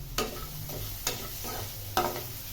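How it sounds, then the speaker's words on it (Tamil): Banana flower and lentil mixture roasting in extra oil, a constant crackling sizzle broken by three sharp spatula scrapes against the pan at regular intervals. "ஏன்னா இதை நம்ம இந்த எண்ணெயிலே தான் ஃப்ரை பண்ணணும்."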